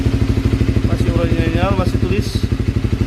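A Honda CBR 150R Thailand limited edition with a four-stroke engine and original exhaust idles close by in a steady, rapid pulsing throb while people talk over it.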